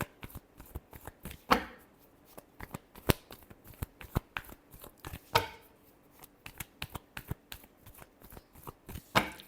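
Tarot cards shuffled by hand in quick crisp riffles and taps, close and fairly quiet, with short pauses between bursts and no talking.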